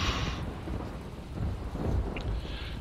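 Rain and rumbling thunder in foggy outdoor weather, a steady wash of rainfall with low thunder rolling continuously and swelling louder in the middle, no voices present.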